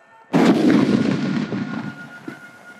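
Sree Selvi brand aerial firework shot: after a brief quiet, one sudden loud blast with a long rumbling, crackling decay, then a small late pop near the end.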